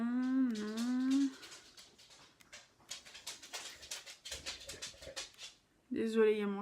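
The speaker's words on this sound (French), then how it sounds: "Désolée, il y a mon chien qui débarque." A pet dog comes into a room, making whimpering, whining vocal sounds at the start and again near the end, with someone talking in between.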